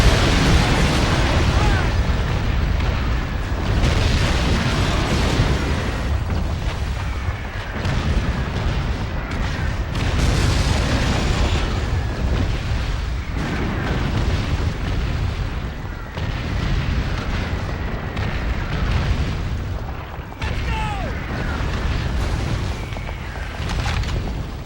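Distant gunfire and artillery explosions in the Call of Duty 2 video game, a continuous rumbling barrage of booms and bursts layered over each other, loud and dense throughout.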